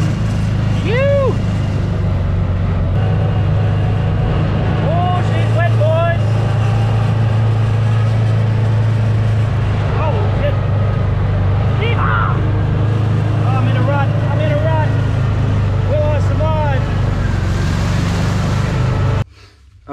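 A mini bike's small engine runs steadily and loudly close by for the whole stretch, with a droning low tone that cuts out at the very end.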